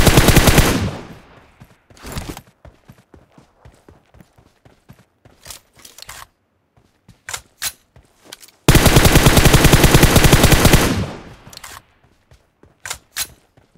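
Rapid bursts of automatic gunfire from a mobile squad shooter game, loud and close, with long sustained volleys broken by short clipped shots and brief pauses, no talking over it.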